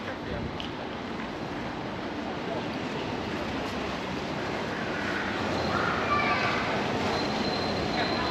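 Trains at Malmö Central Station in Sweden, heard as a steady broad rumble and platform hum that swells slightly toward the end, with no clear voices.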